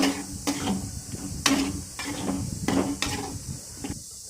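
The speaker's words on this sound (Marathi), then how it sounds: "छान भाजून घ्यायचं मसाल्यामध्ये सोयाबीन." Soybean chunks frying in a spice masala, stirred with a utensil against the pan: a steady sizzle under repeated scraping and clinking strokes at a regular rhythm, close and fairly loud, with no talk.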